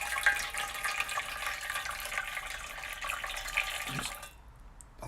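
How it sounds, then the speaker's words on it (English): Hot water poured into the welded sump of a Porsche 924 S Turbo, a steady splashing, trickling stream running for about four seconds before cutting off with a few final drips. "just put some hot water in here"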